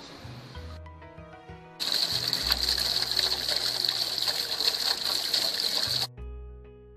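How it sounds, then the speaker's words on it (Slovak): Rushing, splashing water pours loudly and steadily for a few seconds, as from a waterfall, with quieter tonal background sound before and after. "Príkladom gravitácie sú aj vodopády."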